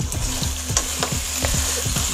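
Old Delhi-style mutton korma with fried onions (beresta) stirred in a hot pan, with loud, close sizzling and rapid, rhythmic scraping strokes of a spatula, about four per second.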